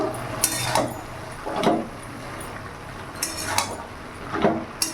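Cabbage curry being stirred in a pot, a spoon scraping and clinking against the metal in several separate strokes, fairly close and moderately loud, with a soft sizzle underneath and no talking.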